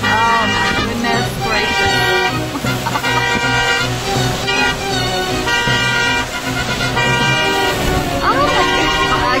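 A car horn blares continuously on a stormy, windy mountain drive up Mt. Mitchell, a steady loud tone held for the whole stretch beneath gusting wind and excited voices.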